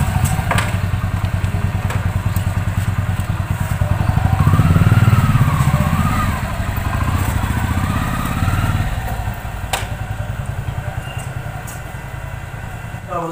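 A motorcycle pulls up and settles into idle, its engine chugging in a steady low, rapid putter that swells briefly midway and then eases back to an even idle, close by and loud.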